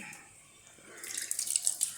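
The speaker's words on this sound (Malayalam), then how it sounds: "കുറച്ചുകൂടെ വെള്ളം ഒഴിക്കാം" Water streams into a pot during netholi (anchovy) curry cooking, a soft hiss and trickle starting partway through and growing louder, close by with no voices.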